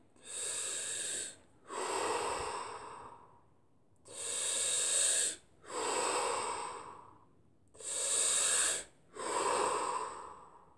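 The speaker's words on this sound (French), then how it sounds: "je commence ma première série de respiration" A breathing exercise with strong active inhalations and softer passive exhalations: six long airy breaths in a steady, regular rhythm, close and clear, with no talking.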